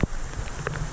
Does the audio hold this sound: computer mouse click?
no